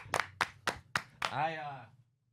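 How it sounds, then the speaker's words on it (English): Five crisp, evenly spaced claps close to the microphone congratulate a new dad, with a voice following right after the last clap. "let's clap it up"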